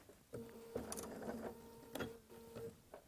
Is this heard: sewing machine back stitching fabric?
yes